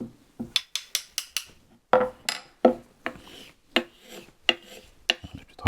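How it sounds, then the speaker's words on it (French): Small hammer tapping a hand plane's iron to set it straight: a quick run of sharp metallic taps, then spaced single knocks with brief scraping, close by and fairly quiet. "Donc, petit marteau."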